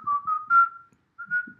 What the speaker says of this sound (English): I hate when people whistle on these things.